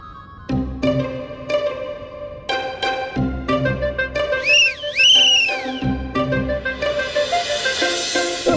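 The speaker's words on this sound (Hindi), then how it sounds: "बाबूजी ने 4 सीटी मारी, देखो ना।" A person whistles a sequence of short sharp blasts with brief gaps, then a longer warbling, rising and falling whistle, followed by a hissy noisy stretch; the whistling is loud and close with no talking.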